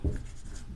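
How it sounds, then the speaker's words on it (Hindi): Chalk or marker scratching briefly across a board in a classroom lesson, close and moderately loud, with no voices. "तो लिखता हूँ दीनानाथ"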